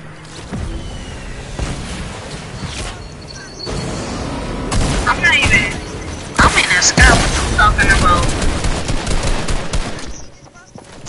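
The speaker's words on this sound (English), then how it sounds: "these people are killing people with grenades" Grenade blasts and gunfire from a PS4 shooter game, a dense run of loud booms and crackling shots through the middle and end, with a player's voice talking over parts of it.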